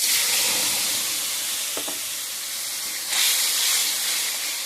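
Spice paste of ginger, onion, tomato, chilli and turmeric sizzles steadily in hot oil, a constant close hiss with a brief stirring scrape and a louder burst of sizzling near the end.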